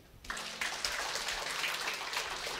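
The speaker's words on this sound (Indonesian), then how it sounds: "Beri tepuk tangan" A church congregation breaks into applause during a worship service: a sudden onset of steady, dense clapping that fills the room evenly for a few seconds, with no voice over it.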